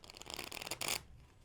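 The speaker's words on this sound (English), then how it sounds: "Riffle. Push together into the divots, and then release." A deck of playing cards is riffle shuffled, heard as a quiet rapid flutter of cards interleaving that builds and ends in a brief burst as the halves are pushed together and released, then near silence.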